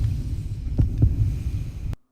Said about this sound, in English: Then you hear a heartbeat.